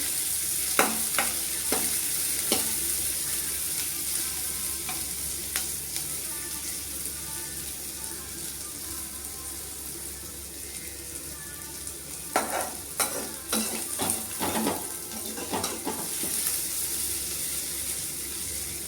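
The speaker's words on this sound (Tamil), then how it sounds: "சின்ன வெங்காயத்தையும் போட்டு நல்லா வதக்கிட்டு" Small onions (shallots) are sautéed in a pan with a steady soft sizzle under scattered scraping and stirring clinks of a spatula, busier toward the end, heard close.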